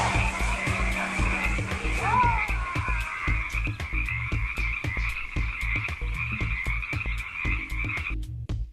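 Frogs at a Shanghai food market croaking in a fast, continuous rattling chorus, loud and close, with a steady low rhythmic thumping underneath.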